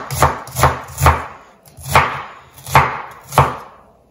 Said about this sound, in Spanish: Vamos a usar esta cebolla en rajitas